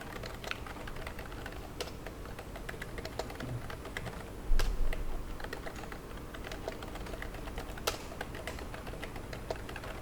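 Text being typed on a computer keyboard while drafting in AutoCAD, a steady run of light, quick key clicks with a few louder taps, close to the microphone, with no talking.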